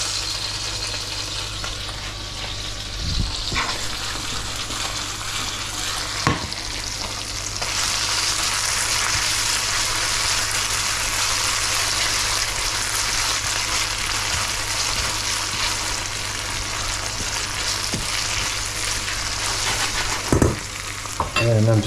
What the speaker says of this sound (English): I'm just going to keep cooking these onions until they are absolutely caramelized